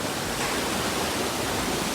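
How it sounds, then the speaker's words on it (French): A waterfall at a swimming spot on holiday, with swirling eddies below, roars as a dense, steady broadband rush, loud and close with no let-up and no voices. "Et regardez la cascade."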